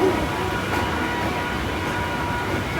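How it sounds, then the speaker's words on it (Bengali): A new train stands at Sealdah station in the rain, giving a steady, loud rumble of rail noise that stays even throughout with no clear horn or clatter. "বাহ ট্রেনটা হেভি তো নতুন ট্রেন মনে হচ্ছে"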